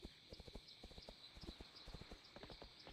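A horse in World of Warcraft trots with rapid, rhythmic hoof clip-clops, while a faint whinny is mixed in beneath the steady hoofbeats.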